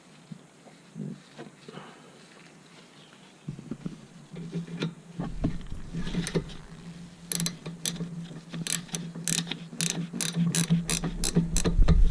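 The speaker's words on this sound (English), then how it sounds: "Just snugging them up with the wrench, 14 millimeter." A ratchet wrench snugs up 14 mm rear brake bolts on a 2010 Toyota Camry, its pawl ticking in a quick steady run that grows louder and faster toward the end, close up in a quiet workspace.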